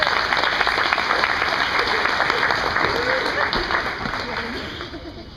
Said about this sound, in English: Please let's give Tony a big round of applause.